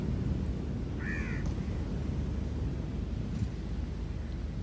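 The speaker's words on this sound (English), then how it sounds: "the sounds of the waves and the birds on this beach" Waves wash on a beach in a constant broad roar, with a brief bird call rising above the surf near the start, and faint cries further off.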